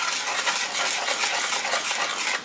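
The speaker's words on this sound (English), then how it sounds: "I just kind of want to stir it up a little bit with my plastic whisk" A plastic whisk stirs dry baking ingredients with cinnamon in a bowl, giving a steady, continuous scraping and rustling close by with no talk.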